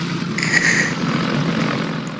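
A helicopter flies in the game Garry's Mod, its engine and rotor making a steady, moderately loud drone with no talk over it.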